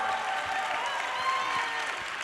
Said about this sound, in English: Will you guys give them a big round of applause for all they did for you?